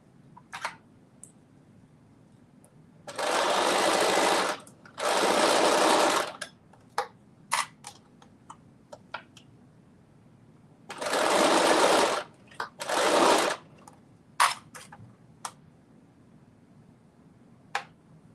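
Close-up sewing machine stitching comes in two pairs of loud, steady whirring runs, each a few seconds long, with scattered clicks and handling taps in the quiet stretches between.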